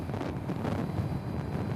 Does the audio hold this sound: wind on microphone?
yes